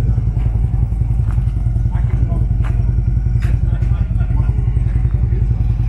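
Motorcycles rumble in the motorcycle parking area at Luckenbach, Texas, with a loud, steady low engine throb and occasional clattering sounds close by.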